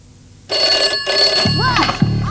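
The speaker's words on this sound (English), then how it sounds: "I only ran into the house to answer the phone." A telephone rings inside a house, a loud electronic ringing that starts abruptly and continues steadily, with short tonal chirps and bursts layered over it near the end.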